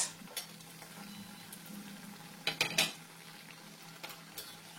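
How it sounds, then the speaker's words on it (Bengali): Potato and flattened rice snacks frying in hot white oil, a faint steady sizzle broken by a few close metallic clinks and scrapes of a utensil turning them in the pan. "গরম হয়ে গেছে, এবার উল্টো পাল্টা ভেজে নেব"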